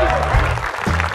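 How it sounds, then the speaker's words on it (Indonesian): A brief burst of studio audience clapping on an Indonesian TV game show, dense and steady with music or a voice faintly underneath. "Kasih tepuk tangannya"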